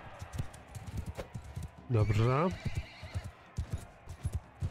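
Horse in the video game Bannerlord, with rapid hoofbeats clip-clopping throughout and one loud, wavering whinny in the middle, while someone speaks briefly.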